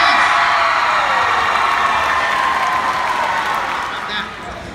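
Loud, dense applause and cheering from a crowd at a high school show choir competition after the grand champion is announced, sustained and close, fading slightly near the end.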